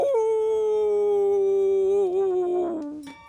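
A lone wolf howls in one long, sustained tone that wavers and drops near the end, clear and close.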